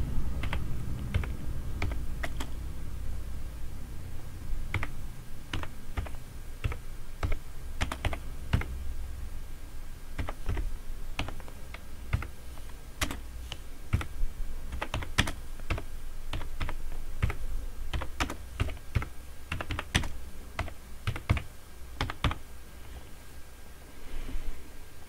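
Steady, quick keystrokes on a computer keyboard while text is typed into an MS Word document, close-up clicks and taps continuing alone for a long stretch with no voices.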